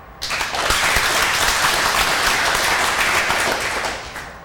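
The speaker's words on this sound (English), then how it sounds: "I think also deserve a round of applause." Loud, dense applause from a workshop audience for the helpers, building quickly and holding steady as a close, crowded burst of clapping before tapering off.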